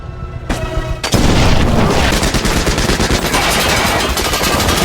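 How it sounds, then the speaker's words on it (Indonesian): Sustained automatic gunfire from a war-film scene in Sisu, opening with a short burst and then a loud, continuous roaring volley of rapid shots that fills the rest of the stretch. "Bruno pun menyuruh asistennya yang bernama Wolf untuk menembak Atami"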